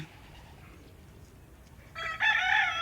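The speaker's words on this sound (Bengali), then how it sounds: "এই যে চারটে মুরগি আছে এখন আর আর বাকি খেয়ে চলে গেল আর দুটো খাচ্ছে" Chickens feeding alongside cats outdoors in Saudi Arabia let out a loud, close burst of clucking and calling near the end, after a quiet stretch with faint background noise.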